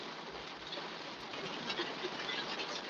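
Heavy rain drums on a car driving along a beltway, a steady dense patter of drops mixed with road noise, fairly quiet and continuous throughout with no talk.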